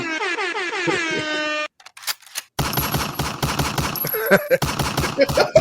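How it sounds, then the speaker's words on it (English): Soundboard sound effects on a live interview stream: a loud horn-like blast, then after a short gap a dense, rapid burst of repeated gunfire-like cracks that runs steadily to the end. "I love the gunshots."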